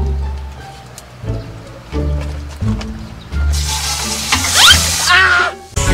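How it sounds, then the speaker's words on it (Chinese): Whole chicken lowered into hot oil over an improvised hand-built outdoor fire; a low rumbling hum gives way midway to a loud, broad, steady sizzle with a few sharp crackles. "那我们现在就先把鸡放上来， 然后准备下锅"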